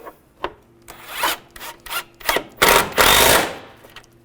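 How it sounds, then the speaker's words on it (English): Ratcheting and scraping hand-tool strokes tightening bolts on a 1998-2010 Volkswagen Beetle A/C condenser, irregular bursts building to a longer sustained rasp near the end, close and moderately loud. "you want to line those up and tighten those down"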